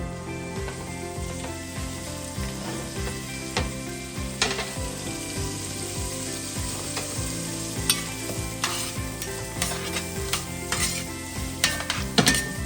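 Chicken pieces cut into medium squares sizzle steadily in a Dutch oven for chicken rice, with repeated stirring scrapes and occasional utensil clinks over a continuous close frying hiss.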